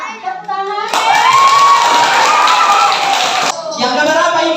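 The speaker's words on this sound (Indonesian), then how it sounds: "Tepuk tangan." Sunday school children at a Toraja church anniversary celebration clap their hands together in a loud, sustained burst lasting a few seconds, with crowd noise and voices around it.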